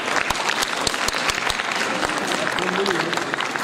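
Scattered audience applause fills a hall at a literary and music award ceremony for a foundation day, with sharp individual claps standing out over a steady crowd wash while a voice talks over it.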